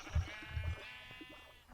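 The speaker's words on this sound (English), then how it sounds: "Now there's sheep in the base." Sheep in Minecraft bleat a few times in quick wavering calls, moderately faint and close, with soft low thumps underneath and no talk.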